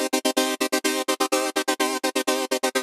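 A sustained synth chord chopped into rapid on-off pulses by a transgate plugin, about twenty sharp gated bursts in under three seconds, loud and even with no voices.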